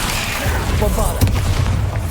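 A Bombarda explosion spell from the video game Hogwarts Legacy bursts with a sharp low boom near the middle, set within a dense wash of game effects and rumble, with a voice shouting a spell.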